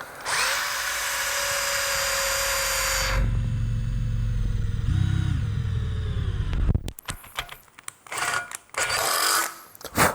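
A Tekiro CD-HD2047 12V cordless hammer drill whirs loudly and steadily for several seconds, its pitch shifting under load, then stops, followed by clattering handling noises.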